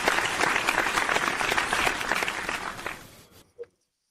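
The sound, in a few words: audience applause for George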